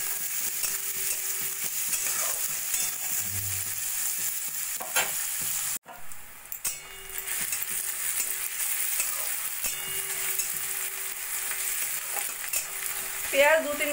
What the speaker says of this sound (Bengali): পেঁয়াজ আর রসুন একটু 2-3 মিনিট মতো ভাজা ভাজা করে নেব।